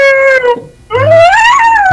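A dog howls loudly and close by in two long, wavering, tonal cries, the second one rising and then falling, with a short break between them and no talking.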